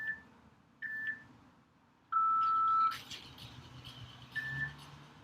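A workout interval timer gives several short electronic beeps, then one longer tone that marks the end of the interval. The beeps sound clear and thin over a quiet room with faint background noise.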